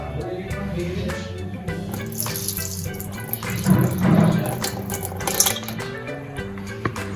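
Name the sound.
washing sago pearls in water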